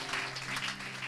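Church congregation clapping and cheering for Jesus during a French-language service, a brief dense wash of applause at moderate volume.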